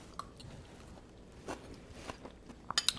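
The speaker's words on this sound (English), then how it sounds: "the crisp crunch of the green bell pepper and the cucumbers" Someone eats a crunchy chickpea Greek salad with green bell pepper, cucumber, arugula, kalamata olives, feta and tomatoes. Quiet, close bites and chewing come in sparse crunches, with a few sharper crisp snaps near the end.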